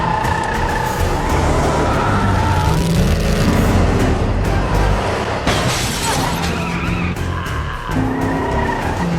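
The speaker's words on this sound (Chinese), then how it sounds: "下一秒警车就失控地冲下了高架" A police car losing control on an elevated highway and plunging off it: loud continuous tire skidding and engine roar with a crunching impact partway through, sustained and close.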